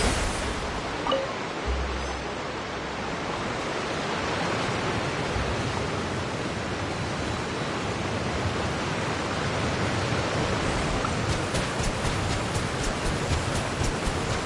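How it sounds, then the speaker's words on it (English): A sustained rushing, hissing spray from a water jet attack in Genshin Impact, loud and steady throughout with no pauses, like a continuous high-pressure stream. "Water jet!"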